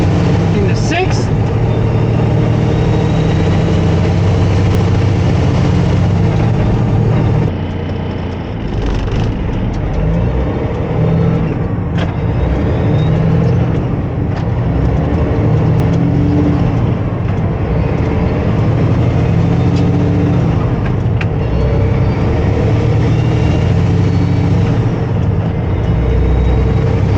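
A semi truck with an 18-speed manual transmission works up through the gears, its loud engine droning with audible dips and surges as shifts occur, a driver talking intermittently over the cab noise.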